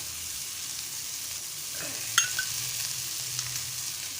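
Malvani-style fish fries in oil with a faint, steady sizzling hiss, quiet and even, with one brief clink of a utensil near the middle and no voices.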